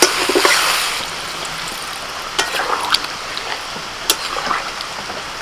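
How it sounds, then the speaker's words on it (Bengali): Water is poured into a pot of sautéed chicken after the oil has separated, a bright splashing rush at the start that fades into a low simmering hiss with a few scattered clinks and drips, and no talking. "মাংস কষানো হয়ে গেছে তেল ছেড়ে দিয়েছে এবার জল দিয়ে দেবো"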